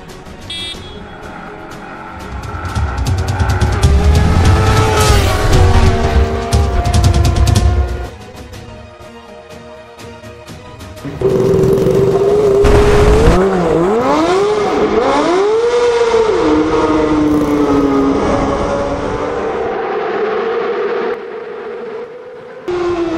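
Vehicles racing on a road, loud roaring engines rising and falling in pitch as they accelerate and rev, with a brief quieter lull midway before the roar returns and fades.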